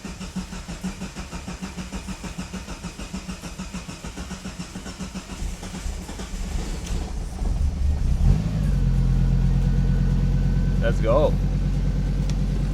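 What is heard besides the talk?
five-cylinder Miata engine starting and idling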